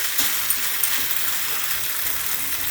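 Chilli chicken gravy with soy sauce, thickened with cornflour, sizzles steadily in a pan, a dense continuous hiss with faint clinks, no voices.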